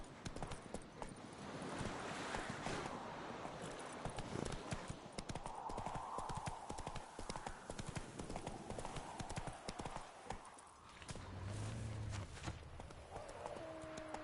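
Horse hooves clip-clop at a steady trot in The Witcher III: Wild Hunt, a continuous rhythmic run of hoofbeats with a brief whinny and faint rider voices.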